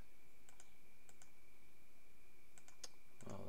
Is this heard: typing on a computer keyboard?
yes